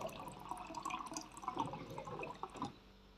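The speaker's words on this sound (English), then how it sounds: "Then, add some cold water." Cold water poured into a mug holding a little syrup, a soft trickling, splashing pour close by that runs for a few seconds and then tails off.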